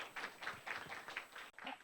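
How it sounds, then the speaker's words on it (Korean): An audience at a county briefing on an employment support program applauds a visiting section chief with rhythmic, evenly pulsing rounds of clapping, moderately loud and close, with the cadence briefly breaking near the end. "저희 군을 방문해 주시고 좋은 사업을 적극 추진해 주시는 과장님께 다시 한번 박수들 부탁드립니다"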